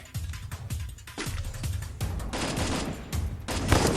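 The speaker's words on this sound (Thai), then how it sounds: "เสียงปืนซ้ายครับ" Rapid bursts of gunfire in the mobile battle royale game Free Fire, with repeated sharp shots and short volleys crackling one after another at fairly close range, with no voices.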